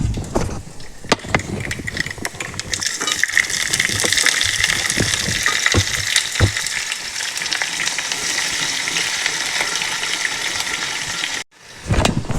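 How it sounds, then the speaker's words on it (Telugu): Dried red chillies, curry leaves and onion fry in a pan for a ridge gourd curry, making a loud, continuous close sizzle and crackle that breaks off briefly near the end. "ఇప్పుడు ఎండుమిర్చి కరివేపాకు వేద్దాం తర్వాత ఇప్పుడు ఉల్లిపాయ వేసేద్దాం"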